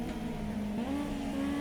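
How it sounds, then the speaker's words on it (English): Race car engines rev at the start of a sim racing game, a sustained droning engine note that rises slightly in pitch over a short stretch, loud and steady with no talking. "The revs build, the red lights extinguish, and the green flag drops."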